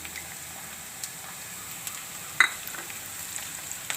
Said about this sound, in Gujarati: તો આને આપણે ઘડીક તેલમાં સડવા દેવાના છે.